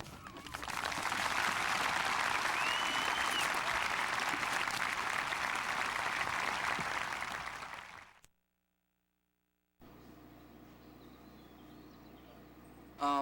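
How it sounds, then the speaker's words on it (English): Full, loud applause from a crowd for high school graduates at a 2002 Strath Haven High School ceremony, swelling and holding for several seconds before fading out, followed by a quiet break and faint unrelated room sound. "we clap for you for now and forever"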